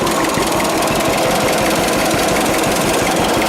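A 1946 John Deere AR tractor engine idles close by with a loud, rapid, even knocking chug that keeps a steady rhythm throughout, with no talking over it.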